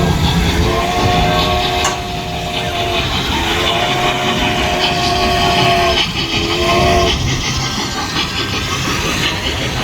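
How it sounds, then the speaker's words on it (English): A train approaches and rolls past near a restaurant in Pigeon Forge, with a loud continuous rumble and clatter and three drawn-out horn blasts sounding over it. "Here comes the train."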